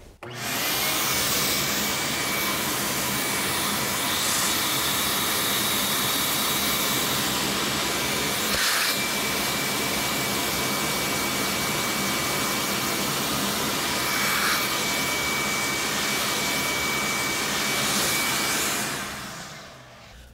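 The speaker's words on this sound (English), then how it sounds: "we're gonna vacuum it anyway" A shop vacuum cleaner runs steadily at close range with a constant whining hiss, briefly shifting tone a couple of times before shutting off at the end, in a guitar inlay workshop.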